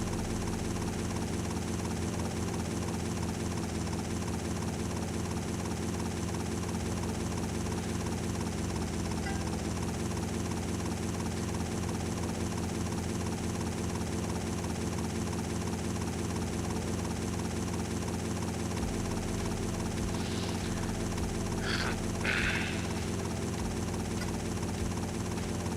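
Helicopter in GTA Vice City Stories: a steady, loud rotor and engine drone runs the whole way through, with a few brief higher-pitched bursts near the end.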